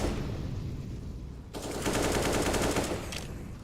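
Rapid automatic rifle fire sprays in Counter-Strike, a dense burst of shots arriving after a stretch of ambient game noise, loud and close, then tapering off.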